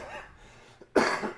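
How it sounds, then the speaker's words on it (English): A single sharp, loud cough bursts out near the end after a stretch of quiet room sound. "There's that cough."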